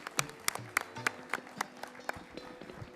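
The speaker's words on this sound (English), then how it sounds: "Let us all welcome them with a big round of applause." Applause from a conference audience at the inaugural session of a national gathering of chartered accountancy students, heard as scattered, fairly sparse hand claps with a steady rhythm in a large hall, moderately loud and without speech.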